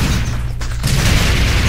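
Mortar blasts in a tower-defense shooter game, Sanctum: a loud, sustained low booming rumble with a brief dip before the thudding resumes, close and heavy.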